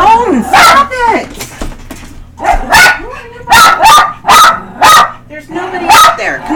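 A dog barks in repeated loud, close bursts, with whimpery yips between them and people talking nearby.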